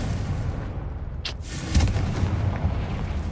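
A fire-spell blast in the video game Hogwarts Legacy gives a loud booming explosion, with a sharp crack about halfway through followed by a rumbling low roar over steady game background noise.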